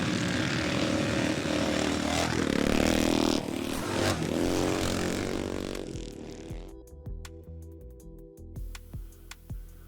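A Matchless G50 Rickman scrambler motorcycle engine roars loudly at close range for several seconds, then drops away, leaving sparse clicks and knocks from the idling or settling machine.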